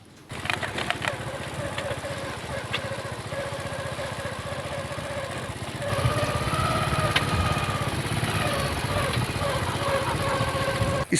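A motorcycle engine runs steadily outdoors near a house, with a rough continuous idle that grows a little louder about halfway through, while birds call faintly.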